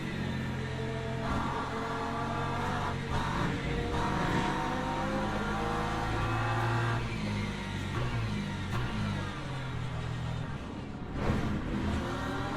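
An LMP2 race car engine in Le Mans Ultimate accelerates through the gears, its tone climbing repeatedly in a loud, continuous drone.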